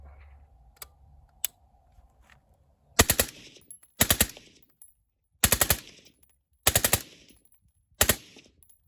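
A suppressed rifle with a Riflespeed gas control fires five quick bursts of rapid, sharp cracks with short pauses between them, preceded by a few faint clicks.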